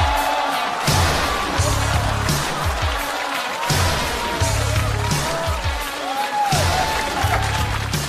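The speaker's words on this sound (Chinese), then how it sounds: "掌声欢迎丁太升" A studio audience at a Chinese comedy roast show applauds steadily as a guest walks on stage, a dense, loud wash of clapping that lasts the whole stretch with music underneath.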